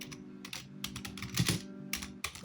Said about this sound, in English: I'm typing this with one hand